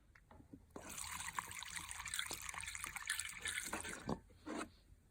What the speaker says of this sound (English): Now let's put some fuel in and see how we go.